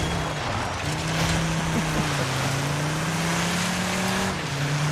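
A racing car engine in the video game DIRT 5 drones at a steady high pitch, loud and sustained, with slight pitch shifts and no talk.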